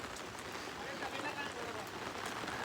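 Steady rain patters densely on surfaces nearby, a continuous close hiss with fine drop detail and a faint voice in the background.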